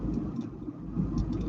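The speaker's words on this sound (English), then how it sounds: "All I hear is the roaring of the cars in the background" Car engines roar and rumble steadily in the background, a low, continuous drone heard over a phone line with no talk over it.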